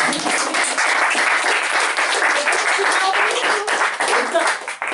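An audience applauds the illustrator of a book's cover and interior art at a talk, with loud, continuous clapping that holds steady for several seconds without fading.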